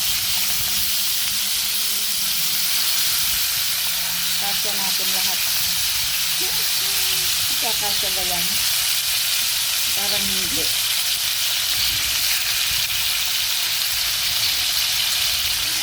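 Loud, continuous sizzling and crackling of marinated chicken wings frying in hot oil, with a person talking briefly over it midway.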